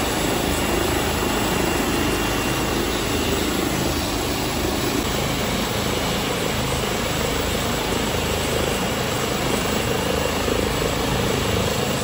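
A loud, continuous helicopter roar with steady rotor chop, close by and unbroken for the whole stretch.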